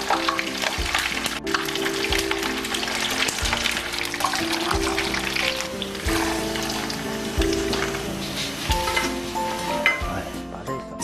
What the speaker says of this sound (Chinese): 小白鱼炸至酥脆金黄